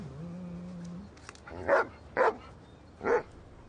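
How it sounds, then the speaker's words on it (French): A police dog gives a short whimper, then three separate loud, close barks spaced about half a second to a second apart, over a quiet indoor background. "Lui, c'est un vrai chien policier,"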